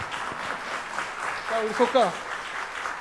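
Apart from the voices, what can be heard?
applause for the church members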